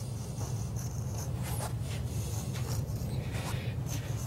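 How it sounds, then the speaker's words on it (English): A utility knife drags and scores through a new piece of Powerbond flooring, a continuous close rasping scrape with brief strokes standing out over steady background noise. "Just take your knife and trace cut the new piece in."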